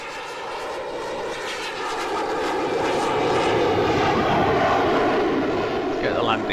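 A radio-controlled model airplane's engine drones steadily in flight, growing louder over time, while a person talks nearby.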